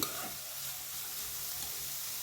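Vegetables and rice for spicy hotel-style egg fried rice sizzle steadily in hot oil in a pan, a close, continuous crackling hiss with no talking.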